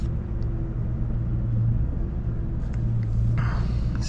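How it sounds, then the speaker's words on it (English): A car driving at highway speed gives a steady, loud low rumble of road and engine noise inside the cabin, with a faint whoosh near the end. "get out on the highway here and do some highway speeds"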